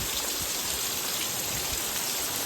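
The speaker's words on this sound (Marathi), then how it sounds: "आजची सुरुवात या जोरदार पावसासोबत झालेली" Steady, dense downpour of heavy rain, a constant hissing wash with no pauses and no voices.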